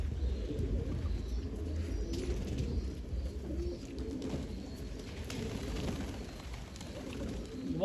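Domestic pigeons coo softly and repeatedly close by, their low throaty calls overlapping in a continuous murmur over a faint background rumble.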